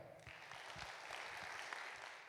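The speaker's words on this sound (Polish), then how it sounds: "koncert laureatów, wielkie brawa" Applause at a laureates' concert of a Polish carol and pastoral song festival, a faint, distant patter of clapping from the hall that continues steadily for a couple of seconds.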